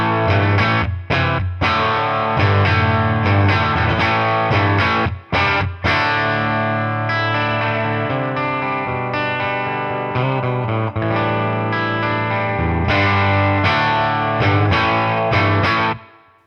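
Distorted electric guitar riffing through the push channel variation of a Boss Katana 50 EX Gen 3 amp, chords with brief pauses, loud and close with no talking.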